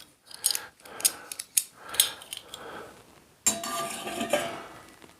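Metal pans, lids and a pot grabber from a Kelly Kettle camping kit clink and scrape in a series of sharp, close metallic knocks, then a longer rattling clatter, with no talking.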